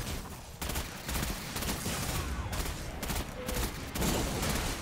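Shotgun blasts and other weapon fire in Destiny 2 Beyond Light, booming shots and crackling gunfire densely layered over a constant noisy battle din, loud and continuous throughout.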